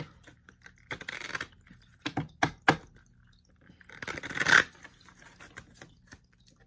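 Tarot cards are shuffled in a few quick riffling bursts, with soft crisp snaps and a longer flurry near the end, close and fairly quiet.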